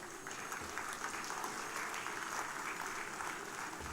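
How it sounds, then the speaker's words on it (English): A crowd at a global summit applauds as a speaker comes up to deliver the vote of thanks, a faint but steady, even spread of clapping from the hall with no talk over it. "Please give him a big round of applause."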